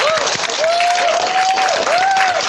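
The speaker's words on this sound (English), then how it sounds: "join me in giving a warm round of applause to Pro Football Hall of Famer" A crowd gives warm applause for Pro Football Hall of Famer Mel Blount, the dense clapping steady throughout, with a sustained whistle-like tone gliding over it.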